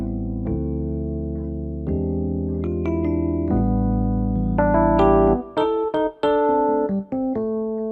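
Neo soul electric piano on a Korg Pa5X with effects on, warm sustained chords followed by a quicker run of stabbed chords with brief gaps, close and unaccompanied.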